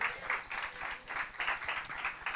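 Steady church congregation applause with rippling bursts of clapping, moderately loud and continuous, no voices standing out.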